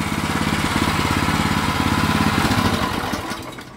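A WEIMA WM900-3 walk-behind tractor engine runs steadily and loudly close by, a continuous throbbing mechanical drone with a regular firing pulse that fades slightly near the end.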